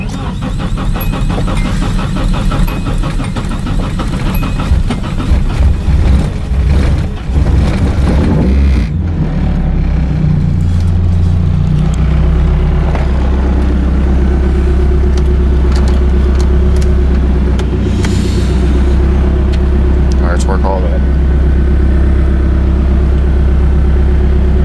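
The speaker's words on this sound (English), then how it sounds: "Car starts." A Volvo 240 engine cranking with a new starter and battery, catching and settling into a loud, steady idle that rumbles on for the rest of the clip.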